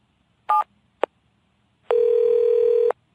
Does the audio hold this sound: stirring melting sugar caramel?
no